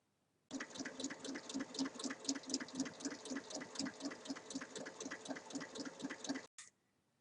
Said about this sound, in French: je replie sur 1 cm et je vais piquer sur toute la longueur.